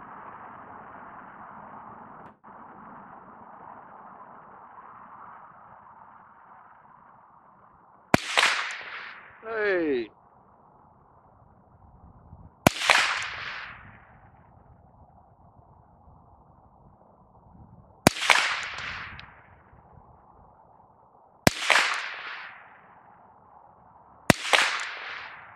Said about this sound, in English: I'm running my 10/22. We got some kind of hit or miss ammo on it, but we're gonna try to shoot some of these tomatoes down here.